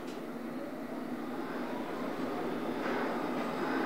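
A London Underground District Line train runs between stations toward Wimbledon, giving a steady, fairly loud rumble of wheels and carriage noise that rises slightly toward the end, with no talk.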